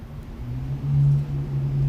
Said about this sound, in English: now this car is noisy